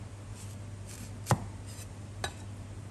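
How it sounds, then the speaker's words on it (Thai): A knife slicing kaffir lime strikes a cutting board twice, a sharp close tap followed by a softer one a second later, over a steady low hum. "จากนั้นให้เรามาหั่นมะกรูดค่ะ"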